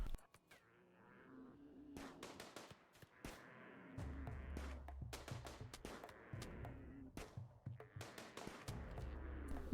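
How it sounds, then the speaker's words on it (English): RimWorld colonists firing guns at a thrumbo: rapid bursts of sharp video-game gunshots in irregular volleys, some clustered into quick strings, over a low background hum. "all 3 colonists who are using guns will line up and start shooting at it"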